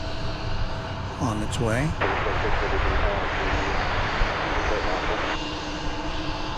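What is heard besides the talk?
jet airliner at DFW Airport, flight to Sacramento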